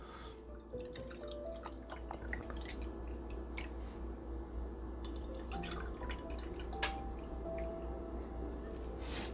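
Thick yogurt dripping and glugging steadily into jars, a soft wet trickling with a few brighter drips and clinks over a low background hum.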